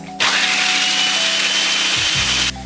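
A food processor whirs loudly and steadily for about two seconds as it shreds ingredients for a nut-free raw vegan pumpkin pie, the motor pitch dropping just before it cuts off.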